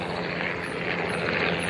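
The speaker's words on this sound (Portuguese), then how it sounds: "E eles estão passando baixinho" Helicopters flying low overhead above a forested mountain, a steady loud rotor and engine roar with no pauses.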